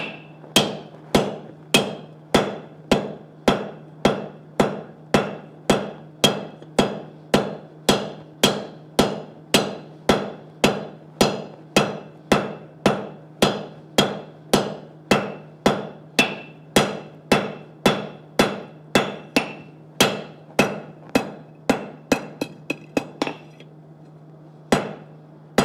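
A hammer forging hot metal at a smithing session, dozens of loud, evenly spaced ringing blows close by, a steady rhythm that quickens into rapid strikes near the end before stopping.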